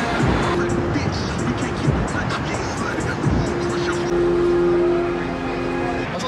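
An expensive sports car passes on a South Florida street, its engine and road noise swelling and fading against busy traffic, with a sustained tone near the end. A voice speaks briefly over the roar.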